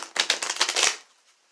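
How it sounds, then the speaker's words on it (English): A quick riffle of tarot cards being shuffled, a rapid papery flutter lasting under a second, close and fairly loud, then quiet. "I'm going to just shuffle up a couple times"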